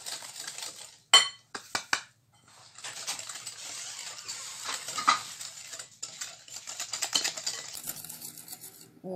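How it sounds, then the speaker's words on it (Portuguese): Coconut cake batter with sugar just added is beaten in a bowl, giving scraping, clinking utensil strokes against the dish. Several sharp knocks come early, then a continuous rhythmic whisking close by. "Vou acrescentar o açúcar e vou continuar batendo"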